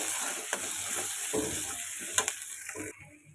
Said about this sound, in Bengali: এখন দুটোকেই খুব ভালোভাবে নেড়ে চেড়ে কষিয়ে নেব